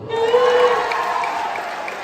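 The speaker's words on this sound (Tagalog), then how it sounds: "Palakpak, palakpak." An audience at a barangay community meeting about school preparation applauds, a steady wash of clapping and crowd noise lasting a couple of seconds under a faint tonal hum.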